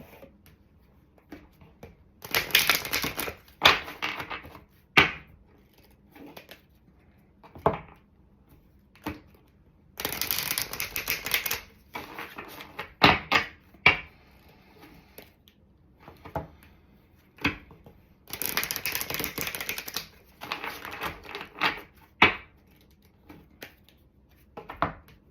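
Cards shuffled by hand during a solstice card reading, in repeated bursts of riffling and soft flicking separated by quiet pauses, close and alone without talk.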